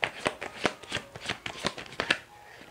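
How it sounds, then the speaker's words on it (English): A tarot deck is shuffled by hand up close, a rapid series of crisp riffling snaps and flicks, about a dozen bursts, then it settles quiet. "All right, we're gonna shuffle"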